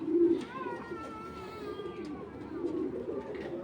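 A racing pigeon coos softly and close by: a low, rolling coo at the start, then another near the end, with faint bird chatter in between.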